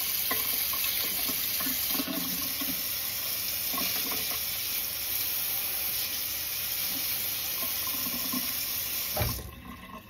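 Hot water pours from a kitchen tap into a blender jar to rinse it, a steady rushing splash that runs continuously and then cuts off near the end.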